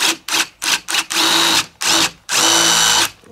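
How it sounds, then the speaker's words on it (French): A power drill with a spade bit pre-drills a hole in 2x6 wood for a field fence gate, loud and close, in short revving bursts followed by two longer sustained runs. "je vais faire un pré-perçage ici avec une mèche plate"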